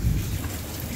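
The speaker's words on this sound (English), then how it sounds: "Well, the rain is stopping." Steady rain with a low thunderstorm rumble underneath, a continuous dense wash of falling drops at moderate loudness with no voices.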